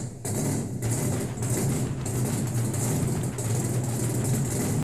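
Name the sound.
classic car engine idling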